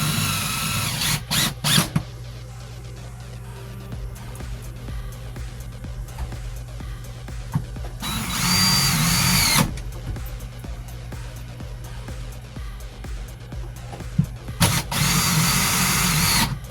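A power drill drives screws to mount a replacement interior cabin light on a Catalina C 30 sailboat, giving short whirring bursts at the start, in the middle and near the end, with a steady low hum between them.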